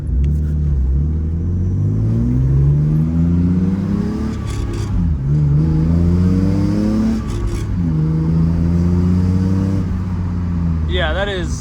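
A BMW E36 drift car with a custom fabricated exhaust revving repeatedly, loud close engine climbing in pitch through several long pulls and dropping back between them, with voices heard over it.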